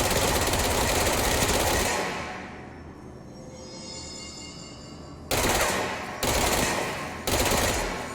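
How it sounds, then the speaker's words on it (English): Burst-fire gun shots in the video game Control: a loud sustained rattling volley, a short pause, then three separate clipped bursts in quick succession, close and harsh. "This is definitely a burst fire weapon."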